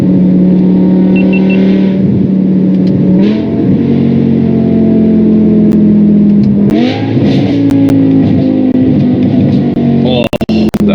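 A BMW M5 E61 Touring's V10 engine revs hard through rising gears on the Autobahn, the loud in-cabin drone climbing steadily, then dropping with a sharp hit at each upshift, with a clatter near the end.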